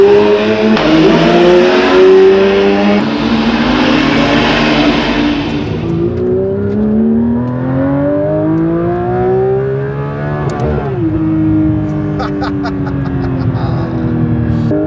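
A track car at Monza accelerates hard and climbs through the gears, loud and close, with rising engine pitch broken by quick shifts before the roar recedes and a few sharp high squeaks follow.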